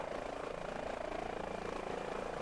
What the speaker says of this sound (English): that's part of the fun of flying these helicopters